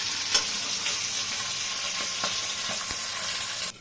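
Pabda fish sizzling vigorously in oil in a wok, a dense continuous fry hiss with a few sharp pops and crackles, close and loud, with no voices.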